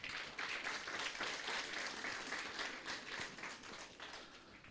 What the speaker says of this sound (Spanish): por favor, vamos a dar fuertes aplausos.